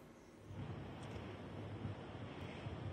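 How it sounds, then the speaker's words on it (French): Strong storm wind buffets the microphone while heavy sea waves crash and roar continuously on the coast at Quiberon, Brittany, during a winter storm; a steady loud rumble with no talk. "le vent continue de souffler ici à Quiberon. Les vagues sont de plus en plus importantes."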